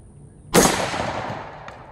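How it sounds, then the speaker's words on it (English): A single sharp air rifle shot fired outdoors on a farm cracks loudly, then trails off into a long fading outdoor echo. "Okay, firing."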